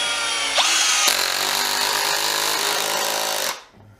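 A Milwaukee M12 CPD cordless drill drives in with a loud, steady whirring drone that jumps in pitch early on, holds for about three seconds, then cuts off abruptly.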